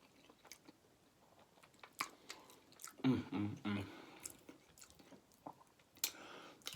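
Close, quiet chewing of vegan spaghetti with Beyond Meat beef crumbles: soft wet bites and mouth sounds, with a louder crunchy burst partway through and scattered clicks.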